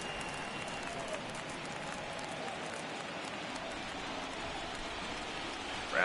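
Steady crowd roar from a stadium in a baseball video game, the Phillies at the Dodgers in an NLDS playoff game, a dense continuous wash of cheering and noise without break, with a slight swell at the very end.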